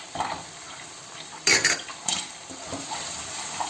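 A spoon stirs a parsley, salt and red pepper filling in a pan for hand-rolled börek, giving scraping clinks and light metallic knocks over a soft steady hiss.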